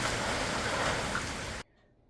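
Rainwater pouring from house gutters in sunshine, a steady close rushing splash like a running faucet that cuts off abruptly after about a second and a half, leaving near silence.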